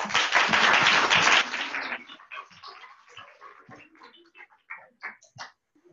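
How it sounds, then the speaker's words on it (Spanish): An audience at a medical journal review session applauds enthusiastically, with a dense, loud burst of clapping that thins out into scattered individual claps and a few stray noises. "primera vez que escucho un aplauso tan efusivos en un miércoles"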